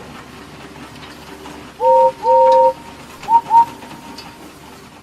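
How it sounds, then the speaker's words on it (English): A steam engine whistle sounds twice in long steady blasts, then twice more in short toots, loud over a quiet rumbling background. "Far away, but getting louder and louder, was the sound of an engine's whistle."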